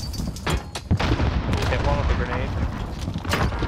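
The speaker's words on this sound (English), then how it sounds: "Killed one with a grenade." A grenade blows up in Call of Duty: Modern Warfare amid a busy, dense spread of gunfire and booms, with voices talking over the noisy firefight.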